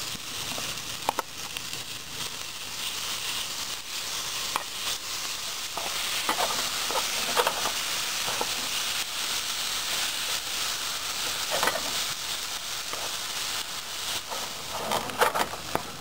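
Sauce poured into a hot pan of fiddleheads with Parmesan over low heat, giving a steady bright sizzle and crackle throughout, with occasional clicks and spoon scrapes.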